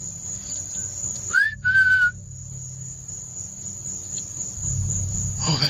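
A loud two-part human whistle, a short rising note and then a longer steady one, cuts through a constant high cricket drone in dark woods at night. After the whistle only the insect chorus and a low background rumble remain.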